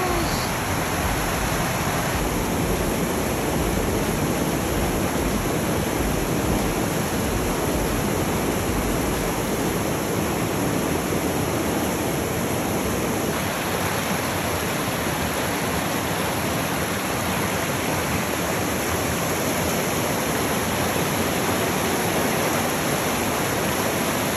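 A small mountain river in Colorado, near Independence Pass, rushes in a dense, loud, unbroken roar with no voices, close and continuous throughout.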